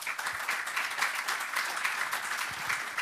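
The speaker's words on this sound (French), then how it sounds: "j'aimerais qu'on les applaudisse." Audience applause at a keynote on DIY philosophy, honouring the conference organisers: steady, dense clapping from a large crowd, sustained at even loudness for the whole stretch with no talk over it.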